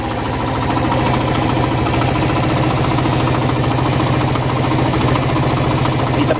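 A Suzuki engine running with a hydrogen bubbler fitted to its carburetor, idling with a steady, rapid knocking pulse that stays loud and unchanging throughout, with no voices.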